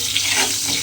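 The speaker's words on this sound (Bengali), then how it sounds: "এবারে আলুটাকে একদম লাল লাল করে প্রথমে ভেজে নিতে হবে" Salted potatoes fry in a pan with a continuous, close, bright sizzle that hisses evenly throughout the brief moment.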